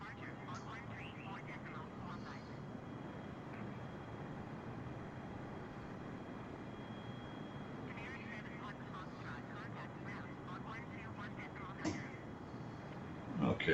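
A Boeing 747-8 cruises on autopilot in Microsoft Flight Simulator 2020, its engine and cabin drone a steady broadband roar throughout, with faint intermittent voice fragments in the background.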